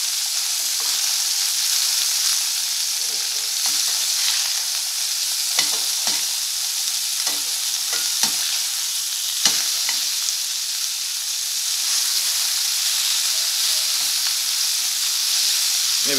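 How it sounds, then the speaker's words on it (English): Steady loud sizzling of food frying in a pan, a constant crackling hiss with occasional sharper pops throughout. "maybe I'll fast forward this part of me frying up the chicken."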